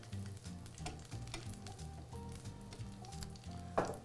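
Red radishes sizzle in a hot pan, a steady crackling fry with stirring scrapes and a brief sharper burst near the end, heard alone without talk.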